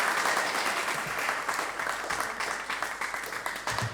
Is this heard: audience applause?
yes